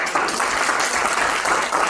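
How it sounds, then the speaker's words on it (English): A small group in a classroom-style gathering bursts into brief, lively applause, a dense burst of clapping lasting about two seconds. "Everyone, round of applause."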